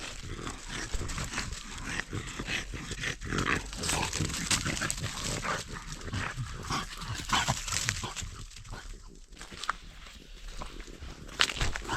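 Several dogs run through a forest in the Lviv region, paws and rustling footsteps crunching over the damp undergrowth with sniffing and movement close by, continuous for several seconds.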